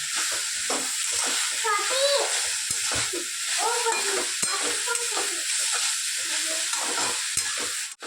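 Mango pickle mixture being stirred and fried in a pan, a steady broad sizzle with scraping stir strokes throughout, while a voice talks faintly in the background.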